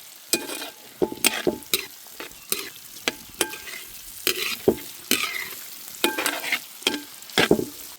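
Raw mango pieces fry in oil for mango thokku: a steady sizzle broken by frequent sharp scraping and clacking of a stirring spoon, close and with no talk.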